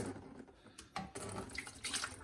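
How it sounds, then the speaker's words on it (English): Water spilling out as the bottom of a sink P-trap is removed during a faucet replacement, a close, uneven splashing trickle that swells near the end. "first I'm going to remove the bottom of the P-trap, and you'll see water starts to spill out here"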